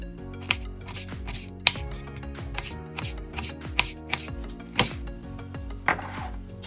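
A knife slices meat into long thin strips on a cutting board. Close, regular chopping knocks repeat steadily with small sharp clicks and no talking.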